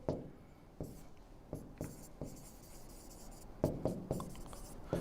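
Chalk or marker strokes on a board during a chemistry lecture on reaction mechanisms, a series of sharp taps and short scratchy strokes in irregular bursts, fairly close, with no talk.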